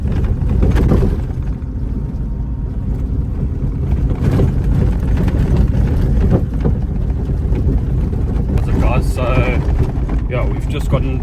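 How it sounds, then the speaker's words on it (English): An overland vehicle rumbles slowly along a badly corrugated, thick sand road in Nxai Pan National Park, Botswana, a loud continuous low drone with jolts and wind buffeting, voices talking over it. "the roads are absolutely terrible, very corrugated and very thick sand"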